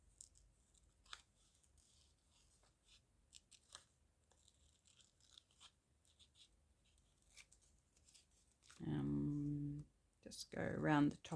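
Scissors snip paper decorations during fussy cutting, a series of faint, close, crisp clicks and short cuts spaced irregularly, followed by talking at the end.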